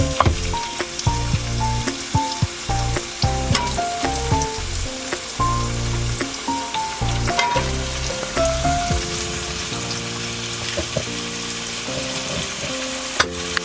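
Potatoes fry in a pan with a continuous crackling sizzle and occasional stirring scrapes, while plucked musical notes play alongside.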